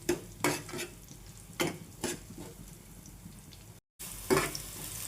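Onions and green chillies frying in a pan while being stirred, a low sizzle under repeated spoon scrapes and clanks against the pan, with a brief silent gap.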